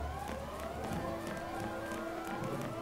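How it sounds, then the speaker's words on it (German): A siren in the Final Fantasy XIII video game wails continuously over busy game music, its rising and falling tones loud and sustained throughout, alone without talk. "Boah, diese Sirene."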